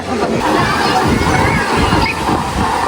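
Continuous rushing, sloshing water fills the clip, loud and close, with a busy crowd murmuring behind it, at Chakur Water Park.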